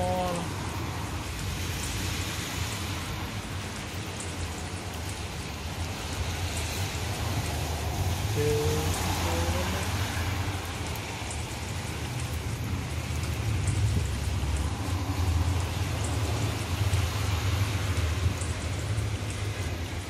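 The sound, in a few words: heavy rain falling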